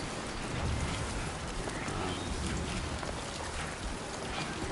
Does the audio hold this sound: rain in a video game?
yes